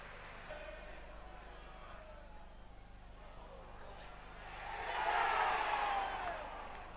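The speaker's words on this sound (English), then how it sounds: "huge cries from the crowd as Blissett strained and strained for that ball" The crowd at a 1992 League Cup match between Brentford and Tottenham Hotspur swells into a loud roar of cries as a striker strains for a header, rising from a steady stadium murmur and then easing off.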